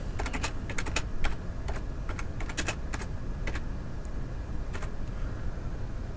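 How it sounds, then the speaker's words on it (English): Quick clusters of clicking keystrokes on a computer keyboard while a phrase is entered, close and distinct over a steady low background hum, without any speech. "I'm just going to type in"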